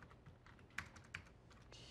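Quiet, close typing on a computer keyboard: a few scattered key clicks with two sharper taps, in an otherwise calm room.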